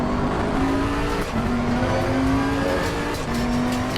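A BMW race car in Assetto Corsa Competizione holds a loud, steady engine drone at the Hungaroring, with a slightly rising pitch and brief dips between gear changes, heard up close with no talking.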